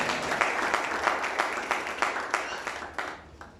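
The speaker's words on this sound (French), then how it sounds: "Acclame Jésus" A church congregation claps at a sermon, giving a steady run of rhythmic claps at an even beat that fade slightly toward the end.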